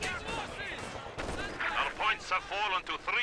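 Gunfire in a Company of Heroes 2 1v1 match, heard as a steady run of sharp, overlapping rifle and machine-gun bursts with loud cracks clustering toward the end, mixed with other battle noise.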